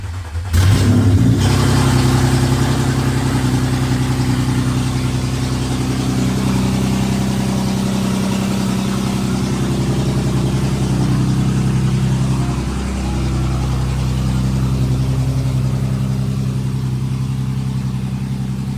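An Audi C7 engine fitted with test pipes revs hard at first, then settles into a loud, steady, deep rumble close by, with a brief dip and surge partway through.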